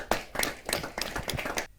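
Audience clapping at a Hindi kavi sammelan (poetry gathering) honouring ceremony: several steady, rhythmic bursts of hands close together, lasting under two seconds with no talk over them.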